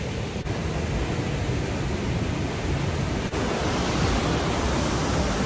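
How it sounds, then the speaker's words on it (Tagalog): Lower Falls in Banff National Park roars as a continuous broadband rush of falling water. It is heard close and steady throughout, with no voices and no pauses. "Malapit na, andito na kami sa Lower Falls."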